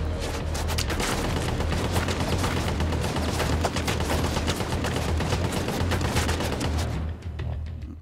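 Enemy gunfire in the video game The Division 2, a loud, dense, continuous rattle of automatic fire lasting several seconds before cutting off abruptly, with no talking.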